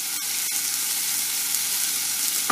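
Tomatoes and salt sizzle steadily in a hot pan for mutton curry, a close, continuous frying crackle with a couple of soft stirring knocks near the start.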